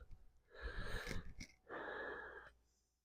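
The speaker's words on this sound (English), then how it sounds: "Deep breaths." Deep breathing during a yoga flow: a long, rough breath followed by a second steady, airy exhale, close and clear with no talking.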